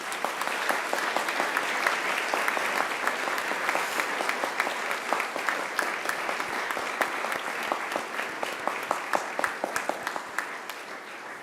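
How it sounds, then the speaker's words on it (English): Seated graduates at a university ceremony turn to applaud their families and friends, a sustained, fairly loud round of many hands clapping that holds steady for over ten seconds. "I invite you to give them a mighty round of applause."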